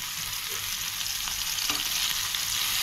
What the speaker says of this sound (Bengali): চিংড়ি মাছগুলো দিয়ে দিব।